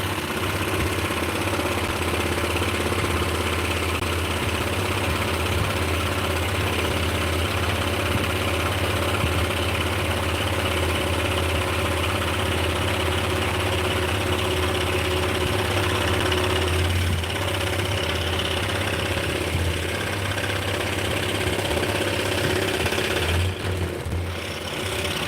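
A motor-driven saw runs continuously, a steady droning hum with a low buzzing vibration that holds constant throughout, with no talking.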